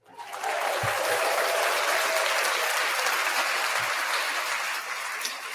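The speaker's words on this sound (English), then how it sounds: "Round of applause there." Close, loud audience applause that starts abruptly and holds as a dense, steady clatter of many hands for several seconds before easing slightly at the end.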